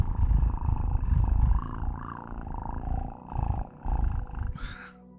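Pet cat purring close up in a steady low rumble with soft pulsing breaths, overlaid by a person's cooing, purr-like vocal imitation.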